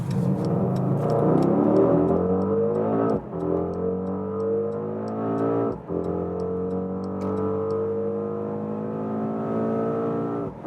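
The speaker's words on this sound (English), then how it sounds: "we'll go to the race mode and start from 40 kilometers an hour to whatever" A Mercedes GLE 63 S AMG Coupe with a 4-liter bi-turbo V8 accelerating hard in race mode on the autobahn from 40 km/h, engine pitch climbing steadily through three gears with brief dips at each shift.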